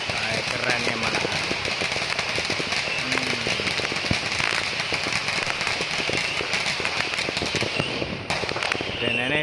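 Firecrackers and fireworks go off for Chinese New Year in Taman Mutiara Rini, Skudai, Johor Bahru, Malaysia, with dense, rapid, continuous crackling bangs that stay loud and unbroken throughout.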